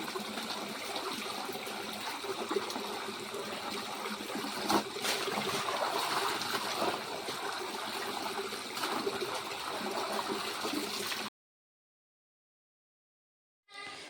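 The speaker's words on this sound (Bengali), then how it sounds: "আর এটা একটু মোটরের পাইপ লাগা আছে, এই যে একটু লাগিয়ে দিন, তাহলে একটা জল পড়বে" Water pours steadily from a motor pump pipe as a continuous gushing stream for about eleven seconds, then stops abruptly into silence before a brief return at the very end.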